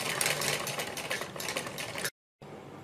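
A sewing machine runs in a fast, steady rhythmic chatter while stitching a net neck design, close and continuous for about two seconds, then stops briefly before a faint hum resumes.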